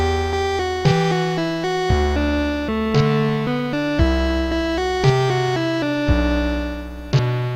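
A tracker song in OpenMPT plays at half speed, with a deep synth bass line and stacked lead tones changing in slow, even steps, punctuated by a sharp hit roughly every second; steady and fairly loud, no speech.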